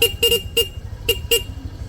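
Stock horn on a Honda Click V3 scooter sounds in five short, close honks, with two quick toots in a row, a gap, then a single toot and a final pair, played loud with no voices.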